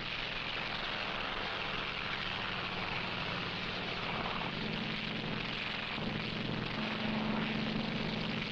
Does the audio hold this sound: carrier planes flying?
yes